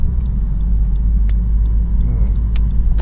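A Honda Civic FK7 takes a corner on a winding road, heard from inside the car as a loud, steady low rumble of engine and road noise with faint ticks and clicks above it.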